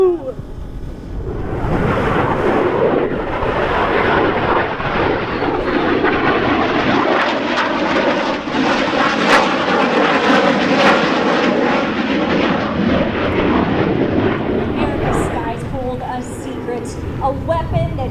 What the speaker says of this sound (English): The Northrop Grumman B-2 spirit